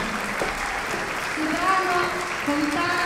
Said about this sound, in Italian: Forza, fate l'applauso.